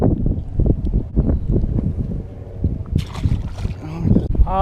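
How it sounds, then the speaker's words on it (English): Strong wind buffets a microphone on a Central Florida lake during springtime bass fishing, a steady low rumble with gusts under and between people talking. "This wind's crazy."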